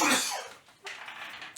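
A man ill for about two weeks coughs twice: a harsh, loud burst followed by a second rougher cough, close and alone with no talk.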